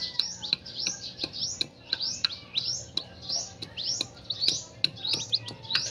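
Chicks of a native chicken crossed with Rhode Island, chirping in a steady run of high, rising peeps, several close together, fairly close and clear over low background noise.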